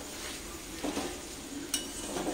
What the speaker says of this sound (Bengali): এখন একবার আমি এটাকে নেড়ে দিলাম, দিয়ে আবারও এটাকে ঢাকা দিয়ে দেব।